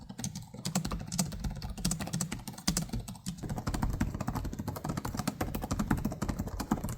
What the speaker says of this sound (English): Here's how their keyboards feel and sound.